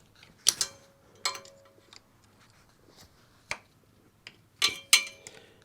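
A wrench tightens a bolt with a crush washer on a Yamaha YZF R1 motorcycle during a coolant flush: a few sharp metallic clicks and ratcheting ticks in small clusters, close and fairly quiet, with no talking.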